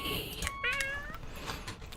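A cat meows in the video game City Supermarket Simulator, a few short rising and falling cries over soft background noise, fairly faint.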